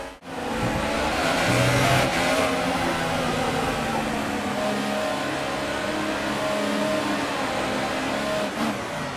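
A Formula 1 race car engine in a racing video game holds a loud, steady, high-pitched whine at full revs, sustained without a break for the whole stretch.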